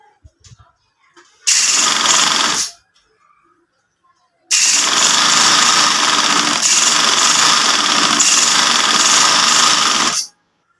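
Sewing machine stitching a buckram strip along the edge of a shalwar, one short loud burst of rapid whirring followed after a pause by a longer continuous run of steady stitching.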